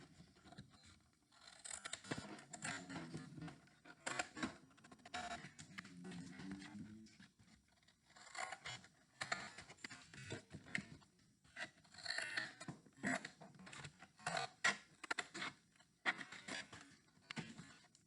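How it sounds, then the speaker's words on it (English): Scissors snip through paper tabs on a handmade 3D paper building model, making a series of close, crisp cuts and rustles that come in uneven bursts with short pauses between them. "what I'm going to do next is I'm just going to cut all the tabs off"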